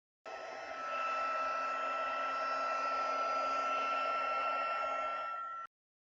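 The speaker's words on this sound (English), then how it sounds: "we're going to cover this in silver embossing powder, and then we're going to heat it" A craft heat tool gives a steady, moderately loud blowing hum as it melts silver embossing powder on a card-making stamp image. It runs alone for about five seconds and then clicks off abruptly.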